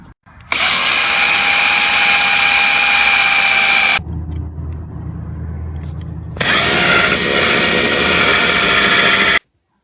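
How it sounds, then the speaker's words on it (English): Cordless power drill boring holes through a metal storm door, two loud sustained whining bursts close up separated by a brief pause of low rumble. "drill from the interior and then drill through the exterior to complete your holes"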